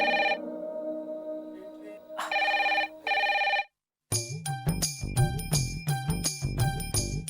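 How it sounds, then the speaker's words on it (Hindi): A landline telephone rings loudly in a domestic comedy scene, sounding in repeated electronic bursts with short gaps before a brief silence and then busy music-like ringtone sounds. "मैं अभी इसके लैंडलाइन पर फोन करती हूँ।"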